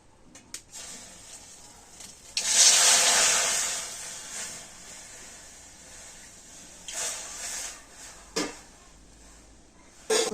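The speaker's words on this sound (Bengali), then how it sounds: "আমি 2 বাটি জল কড়াতে দিয়ে দেবো" Water poured from a bowl into a wok, a broad rushing hiss swelling for about two seconds, then quieter splashes and a few short bursts, fairly close and with no voices.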